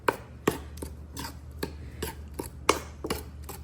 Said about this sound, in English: Give it a good stir so I'll get that sugar dissolved in that milk